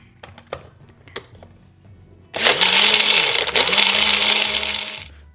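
A kitchen mixer grinder blends a weight-loss drink, starting abruptly after a few faint clicks and running as a loud, steady high-pitched whir for about three seconds with a brief dip in pitch midway.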